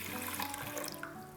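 Two cups of water are poured from a container onto rice in a bowl, making a brief continuous splashing gush close by, with no talking.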